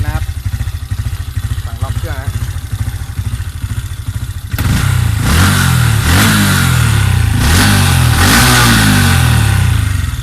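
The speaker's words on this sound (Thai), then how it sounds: "มาฟังเสียงท่อนะครับ เสียงจับโคตรดัง" A tuned Honda Wave 125i motorcycle with an API 8.9 ECU, 56 mm piston and 3 mm stroke: loud, close exhaust idling with a rapid lumpy putter, then repeated sharp revs climbing and falling, with talk audible during the idle.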